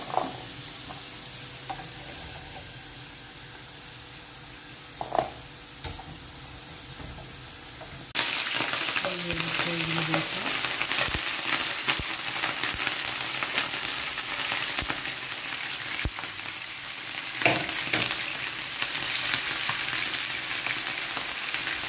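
Liver wrapped in caul fat fries in a pan with a soft sizzle that turns into a loud, dense crackle partway through, broken by occasional utensil knocks.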